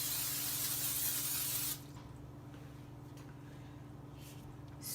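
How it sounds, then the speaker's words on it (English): Cooking spray misted into a mini muffin pan: a loud, close aerosol hiss for nearly two seconds stops sharply, then a quieter background hum follows, with a brief second puff right at the end. "take your mini muffin pan and spray it with some cooking spray"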